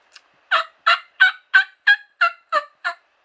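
A person imitates a wild turkey's gobble, producing a rapid string of eight throaty, warbling bursts, loud and close with no other sound.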